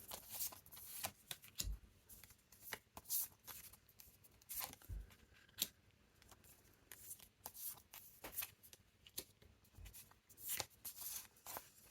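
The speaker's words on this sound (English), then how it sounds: "I'm just going to pull the other cards." Tarot cards riffled, shuffled and drawn from a deck, giving quick papery flicks and slaps in short bursts throughout, close and fairly quiet with no talking.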